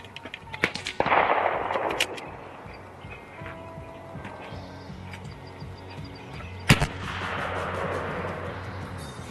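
A .30 caliber AEA PCP airgun fired at an outdoor range, a few sharp cracks with gaps between them and a louder shot near the end, heard fairly close.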